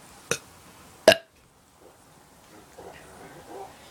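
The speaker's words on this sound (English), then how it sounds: "Burp again." A person burping in short, loud bursts: two sharp, close belches about a second apart, then fainter murmuring and background noise.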